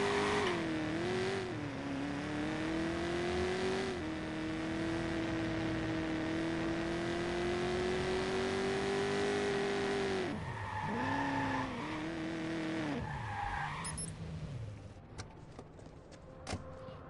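A car oversteers and skids in the Watch Dogs video game, with a long sustained tire squeal that wavers in pitch for about ten seconds, then shorter screeches and engine noise as it recovers.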